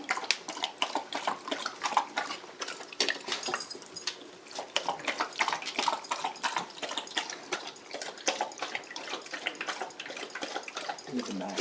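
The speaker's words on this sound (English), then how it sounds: "he's going to dribble the water all over the top of it" A pet laps and dribbles water at a PetSafe Healthy Pet Water Station, producing quick uneven wet slurps and splashy ticks close up, with a few faint indoor noises and soft voices in between.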